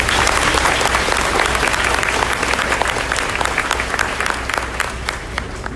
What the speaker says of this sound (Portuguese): Gostaria de uma salva de palmas para Francisco Cunha.